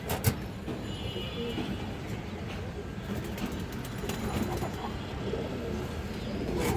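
Pigeons kept for sale coo softly in a loft amid a busy background hum, with a couple of brief knocks and no clear speech over them.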